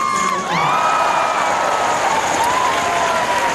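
A stadium crowd at a Diamond League athletics meet in Zurich applauds and cheers continuously, a dense loud roar of clapping with whistles and shouts that persists throughout, while a commentator is faintly heard underneath.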